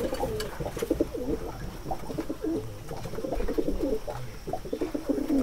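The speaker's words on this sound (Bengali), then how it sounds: "এখানে আমার 2 জোড়া সিরাজ কবুতর" Two pairs of Shiraji pigeons coo close by in a loft, their soft throaty calls overlapping in a steady rolling rhythm.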